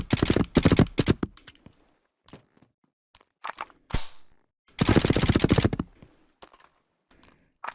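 Rifle gunfire in the VR shooter Into the Radius: two long, loud automatic bursts of rapid shots, the first at the start and the second near the middle, with a few single shots and clicks scattered between them and no voices.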